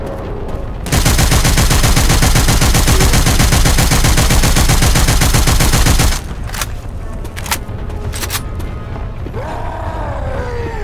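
Sustained automatic gunfire in Left 4 Dead 2 aimed at a Tank, a loud continuous rattling burst lasting about five seconds, then scattered single shots and clatter with a rising whine over ambient noise.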